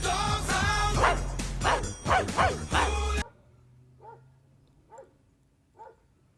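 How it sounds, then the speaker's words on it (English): Dogs fighting outside, heard as a few faint, distant barks and yips spaced apart after a loud stretch of other sound that abruptly stops. "I've got dogs fighting outside."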